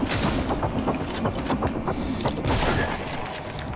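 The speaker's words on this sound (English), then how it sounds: "Shotgun." A shotgun fires in the video game Prey, loud overlapping blasts and booms packed close together in a rough barrage with no clear gaps between them.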